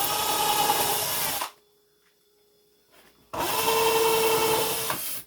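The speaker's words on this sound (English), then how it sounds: "we're going to drill some holes in the bottom here" A power drill bores holes through the bottom of a styrofoam container in two loud, sustained grinding bursts with a short quiet pause between them.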